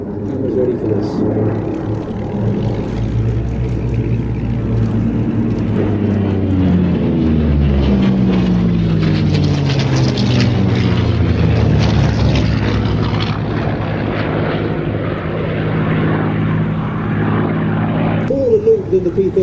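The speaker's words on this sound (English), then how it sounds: "we've just gone into a three-ship led by the P-38, followed by the P-51 and the Corsair" Three warbirds, a P-38, P-51 and Corsair, fly a tail chase at an air show, their propeller engines swelling from a distant drone to a loud, close roar with a rising and falling pitch as they pass, while a commentator talks over the noise.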